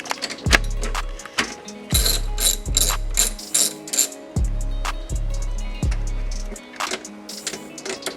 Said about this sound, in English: then you loosen up the positive terminal side